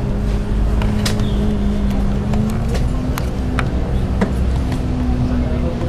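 A bus interior during a ride, with a steady engine drone and rumble throughout, broken by scattered clicks and knocks, while muffled voices talk faintly in the background.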